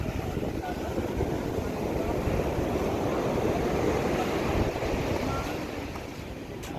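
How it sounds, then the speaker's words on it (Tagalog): Steady roar of wind and big, rough ocean waves churning around a fishing boat, loud and continuous with no clear breaks. "Malalaki naman talaga ng alon."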